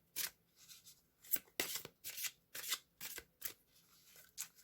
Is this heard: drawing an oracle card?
yes